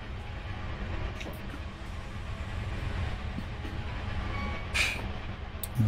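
A steam locomotive hauling a passenger train through the mountains in Train Simulator 2021 gives a continuous low rolling rumble, with a faint clatter and a short, higher hiss near the end.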